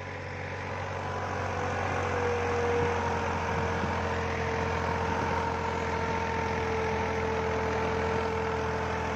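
A tractor engine idles steadily and close by, a low rumbling drone with faint knocking that continues unchanged throughout.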